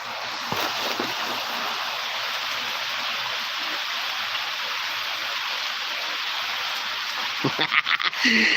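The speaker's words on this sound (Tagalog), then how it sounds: "Laging na ulan dito." Steady rain hisses across the whole stretch as a dense, even wash, with a few louder knocks and splashes near the end.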